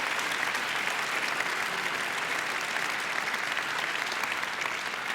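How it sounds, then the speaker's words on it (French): An audience at a Swiss film awards ceremony applauds a singer, dense, even clapping that fills the hall at a steady level throughout. "je pense qu'on peut l'applaudir encore une fois"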